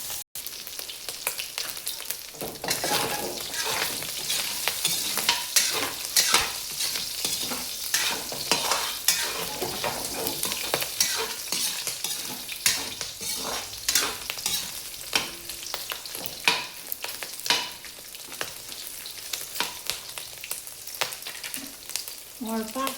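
Pork frying and sizzling in a pan as its fat renders, stirred now and then, for an Ilocano pakbet and white adobo dish; a steady close crackle with frequent scraping stirs and no talking.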